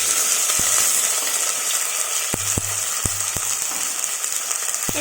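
Onion and tomato fry in a pan for a fish curry, giving a steady hiss of sizzling with occasional sharp clicks and taps from stirring, close and continuous without speech.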